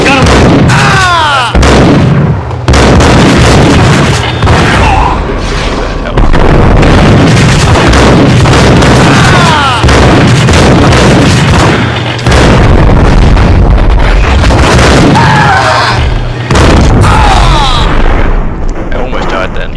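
Repeated loud shotgun blasts and booming gunfire in the Max Payne video game, a shootout with thugs, dense and continuous throughout with heavy low rumble between shots.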